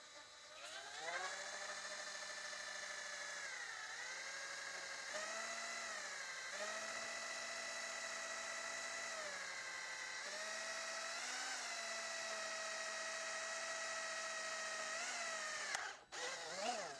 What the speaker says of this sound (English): We're going to drill from the inside out, and we're going to do it in a couple of different steps here.